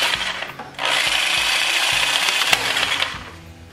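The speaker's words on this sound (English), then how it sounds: "So I just use a Sawzall and just kind of cut through that little piece that's in there." A Sawzall reciprocating saw cuts through a small piece of pipe during a Bolens Ridemaster tractor restoration. It gives a loud, close, gritty buzz that runs steadily for about two and a half seconds and then tapers off, with no talking.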